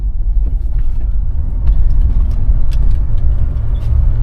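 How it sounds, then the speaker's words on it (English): A 1979 Cadillac Coupe Deville engine runs while driving, a loud, deep, steady rumble heard from inside the car with a few faint ticks and clicks above it. "let's give her a little bit of throttle"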